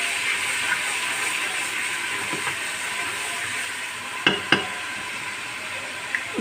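Two tablespoons of ginger garlic paste sizzle in half a cup of hot oil with a steady, loud frying hiss, broken by a few sharp clicks of stirring near the end.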